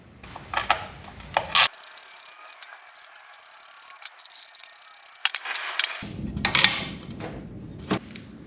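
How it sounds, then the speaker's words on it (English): Skid plate being removed from a BMW F650GS Dakar motorcycle during an oil change: close, steady scraping and rubbing with sharp clicks and ratchet-like metallic taps, busiest at the start and end, no talking. "First step there is going to be removing the skid plate"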